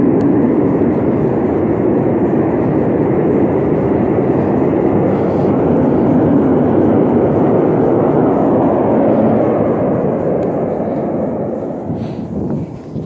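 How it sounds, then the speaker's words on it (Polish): A plane passing overhead near a former military airbase shelter, heard as a loud, steady broadband roar that holds for about ten seconds and then begins to fade, with no talk. "Myślę, że ten samolot będzie mi przeszkadzał dzisiaj."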